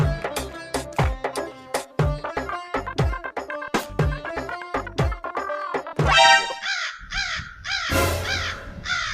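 Crows caw loudly and close by in a long string of harsh, repeated calls, with a few overlapping calls near the end and no talking.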